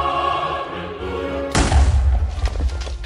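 A sudden loud blast from a video game explosion in a modded Minecraft showcase with villagers and parasites, cutting in after a steady musical background and followed by rumbling, crackling debris.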